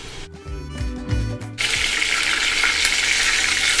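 Onion paste hits hot oil for a catfish curry, bursting into a loud, continuous sizzle after a moment of clinking and low handling noises.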